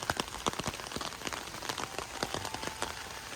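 Rain patters among palm trees in a garden, with scattered sharp drops ticking irregularly over a soft, steady wash; fairly quiet and nearby.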